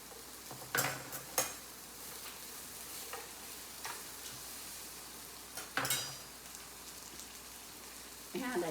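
Onions frying in a pan for Salisbury steak with mushroom onion gravy, a quiet steady sizzle broken by occasional sharp scrapes and clatters of stirring.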